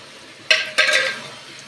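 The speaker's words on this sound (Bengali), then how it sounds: "এবার আমি আগে থেকে ভেজে রাখা ডালের বড়াগুলো মোচার মধ্যে অ্যাড করছি" Spatula stirring fried lentil fritters into a banana flower curry in a pan, two quick scraping strokes with a light clink, followed by a soft sizzle that fades, close and loud.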